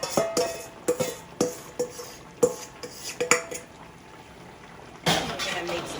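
Meat stirred into a pot of Guyanese pepper pot: a spoon clanks and scrapes against the pot in quick irregular strokes, loud and close, then stops before a short burst of bubbling or shuffling noise.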